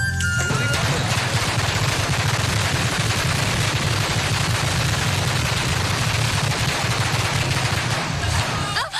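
Loud, rapid crackling bursts of firecrackers going off in a dense continuous string, close by and unbroken for the whole stretch.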